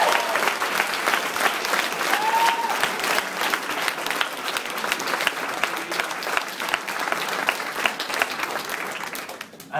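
A large audience gives sustained, loud applause welcoming Irish President Michael D. Higgins at a college venue, a continuous wash of clapping throughout with occasional cheers and voices in the crowd.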